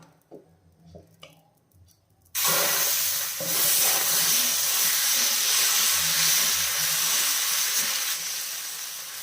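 Ragi and horsegram dosa batter is poured onto a hot, oil-greased dosa pan and breaks into a sudden loud sizzling hiss. The sizzle holds steady and then eases slightly, after a few quiet handling noises at the start.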